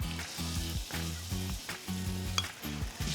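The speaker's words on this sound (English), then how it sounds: "starting with a little bit of olive oil and some sautéed onions and garlic" Onions and garlic sautéing in olive oil in a pan for a stuffed squid dish, giving a steady bright sizzle under a repeating low rhythmic pulse, with no voice heard.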